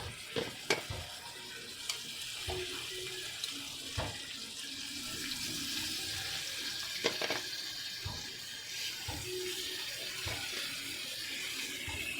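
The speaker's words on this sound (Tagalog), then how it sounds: "lagyan natin yan ng tubig at Knorr cube" Tap water running into a pan of sautéed chicken with onion and garlic in margarine, a steady splashing hiss with a few clinks of utensils against the pan, close and continuous, with no talking.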